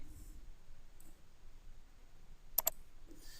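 A computer mouse gives a faint, quick double click during vector drawing work, the two clicks coming close together in an otherwise very quiet room.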